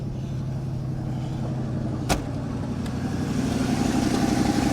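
A 1985 Ford Bronco snow plow truck's engine runs steadily with the choke off, a close, loud, even idle with a single sharp click partway through and the engine note rising slightly toward the end.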